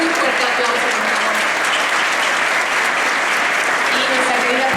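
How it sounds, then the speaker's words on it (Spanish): Loud, sustained applause from a conference audience honoring a speaker at a congress on hereditary diseases and evolution, dense clapping continuing for several seconds with voices faintly mixed in. "Un fuerte aplauso, por favor."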